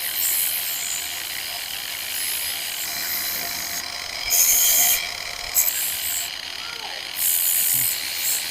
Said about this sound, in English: I just took my angle grinder and put a flap disc on it